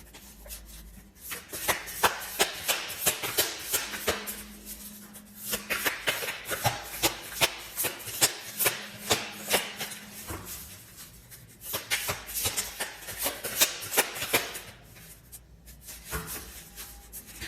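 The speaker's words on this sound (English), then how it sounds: "even as I'm trying to shuffle your cards" Tarot cards riffle and slap repeatedly in quick bursts, a close, crisp shuffling rhythm with short pauses between rounds and no talking.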